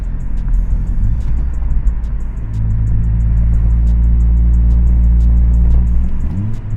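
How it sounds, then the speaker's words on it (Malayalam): A Honda Civic engine with a broken exhaust idles and runs in a loud, steady rumble throughout, its low droning tone rising slightly partway through. "എക്സോസ്റ്റ് പോയി കിടക്കുകയാണെങ്കിലും കുറച്ച് ലൗഡാണ്, ഭയങ്കര ലൗഡല്ല."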